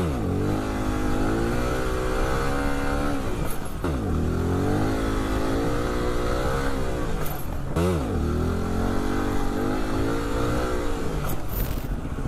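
A motorcycle engine revs and climbs repeatedly in three swelling pitch sweeps, loud and close throughout with no talk over it, as the rider works through the gears on the road.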